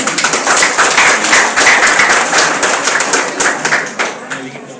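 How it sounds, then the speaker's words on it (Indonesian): Applause from an audience at a volunteer headquarters inauguration event, steady loud clapping with scattered sharper claps throughout, fading slightly toward the end. "Kita kasih aplaus."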